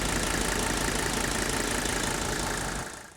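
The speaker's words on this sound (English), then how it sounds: "just look at how smooth this engine idles" A diesel engine after a fuel-system purge idling smoothly and steadily, a continuous even rumble that cuts off sharply near the end.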